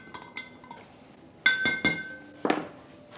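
A utensil stirs floral preservative into a glass vase with a few sharp, bright clinks against the glass. There are light taps first, then several louder strikes spaced apart.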